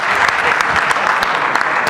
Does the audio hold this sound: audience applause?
yes